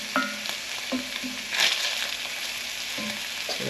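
Pieces frying in a hot pan for chicken tikka masala, a steady crackling sizzle with a few scrapes and stirs of a utensil against the pan, close and alone.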